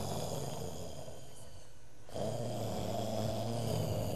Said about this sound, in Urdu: صرف خراٹوں پہ خراٹے ہی مارتے ہیں پیو پتر